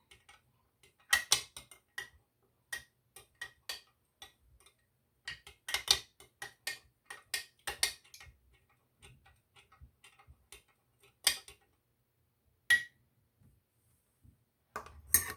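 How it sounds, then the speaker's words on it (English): A spoon stirs homemade aloe vera hair oil in a container, giving scattered sharp clinks and ticks in irregular bursts separated by quiet pauses. "I'm going to take a spoon and just stir it up"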